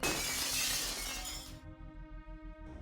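Glass shatters loudly in the Deus Ex video game, a bright crashing burst that lasts over a second before cutting off, leaving a low rhythmic thumping and a ringing tonal background.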